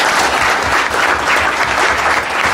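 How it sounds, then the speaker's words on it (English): Loud, dense applause from a panel session audience fills the whole stretch as steady, even clapping with no pauses. "please let's give a big round of applause to our panelists"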